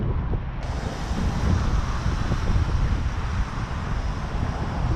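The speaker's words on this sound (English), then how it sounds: "Ooh, it's a windy one." Steady, loud wind rushing and buffeting against the microphone, a continuous low roar with no voices.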